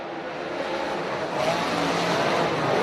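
Pack of race cars at Cherokee Speedway, a short track, roaring back up to speed on a restart, a loud sustained engine blare that swells as the field accelerates.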